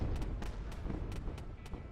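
Explosions in the space game Wayward Terran Frontier: rapid, muffled booms and cracks over a continuous low rumble, fairly quiet and dense.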